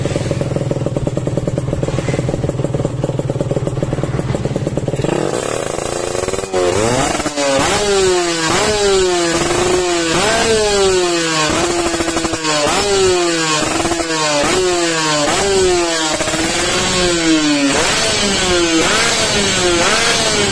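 Motorcycle engine fitted with a BRT PE carburetor idles loudly and evenly, then revs repeatedly in a rhythmic series of rising and falling blips, close to the microphone and with no speech over it.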